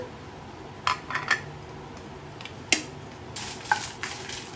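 About fifteen dried red chillies fry in hot oil in a pan, giving a steady low sizzle. A few scraping stirs and light clinks of a utensil break through it, and nobody speaks.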